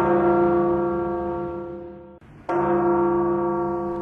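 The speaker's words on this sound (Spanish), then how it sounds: "Las campanas de la catedral" A loud, sustained cathedral bell tone in Mexico City with rich ringing overtones, briefly cut by a short gap before the resonant tolling resumes.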